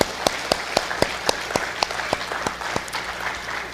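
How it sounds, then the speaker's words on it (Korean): A Korean church congregation applauds volunteers during a Sunday service, a sustained bed of clapping punctuated by a steady series of sharp, evenly spaced louder claps close by. "우리 격려의 박수 한번 드리겠습니다."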